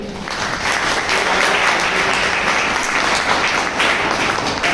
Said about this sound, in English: So here a big clapping.